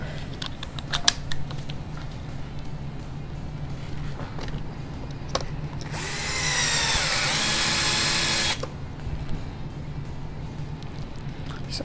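A power drill drives mirror-finished Lunsford screws during an RC buggy build, with short mechanical handling clicks before a loud sustained whirring burst of about two and a half seconds, then quieter fiddling noises.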